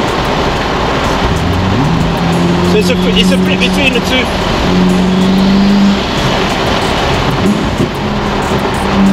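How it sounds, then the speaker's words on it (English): A hybrid car's engine runs in hybrid mode, a loud steady drone with a shifting tone as speed changes, heard from inside the car with a voice talking over it. "so the engine kicks in at 90 kilometers an hour."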